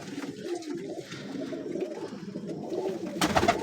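Strong sporting pigeons kept for sale in Punjab coo continuously in low, rolling, overlapping calls, close and fairly steady, with a brief louder flutter-like burst near the end.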